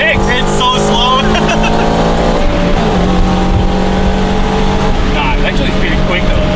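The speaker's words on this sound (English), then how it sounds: "But there's like whining sound. What is that? The tires." A 1JZ-swapped Subaru FRS drives along with a steady high tire whine over loud engine drone inside the cabin, with people talking throughout.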